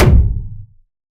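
Unprocessed cinematic whoosh hit: one heavy, low, booming impact that decays over well under a second, loud and dry with no voices.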